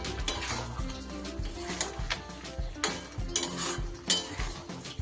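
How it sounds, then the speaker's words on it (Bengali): A spoon or spatula scrapes and clinks against a pan while poppy seed paste is mixed into brinjal, with repeated stirring knocks and light metal chinks and a faint sizzle underneath. "ভালো করে এবার পোস্তটা মিশিয়ে দেব।"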